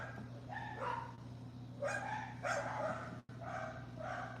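Several dogs bark and yip in the distance, a run of muffled barks at an even pace over a steady low hum.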